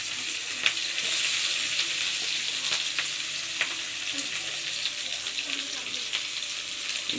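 Chopped onions frying in hot oil in a wok, a steady bright sizzle throughout with occasional clinks of a stirring utensil.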